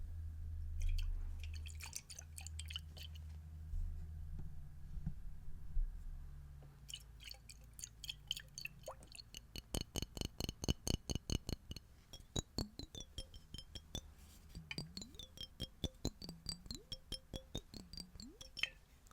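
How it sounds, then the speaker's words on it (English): Soft wet tapping and dripping on glass jars, building into rapid rhythmic clinks and sloshing water that swells and fades, close and quiet. "I love that sound that the water jars make whenever they get louder and then quieter."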